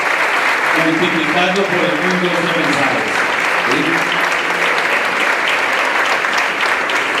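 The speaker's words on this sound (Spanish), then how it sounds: "Démosle un fuerte aplauso a estas personas, miembros del gobierno de Colombia" Strong, steady audience applause for members of the Colombian government at an event, loud and continuous, while someone speaks over it.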